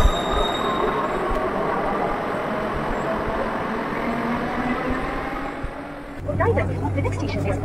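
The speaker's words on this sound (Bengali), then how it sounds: "আমাদের স্প্ল্যানেড যাওয়ারও ট্রেন চলে এসছে, এই ট্রেনটা করেই আমরা স্প্ল্যানেড যেতে পারবো।" A Kolkata Metro Blue Line train rumbles steadily through an underground station with a continuous roar and faint wheel squeal, then the sound shifts abruptly near the end as it settles into running.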